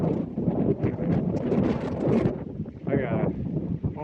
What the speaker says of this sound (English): the wind is bad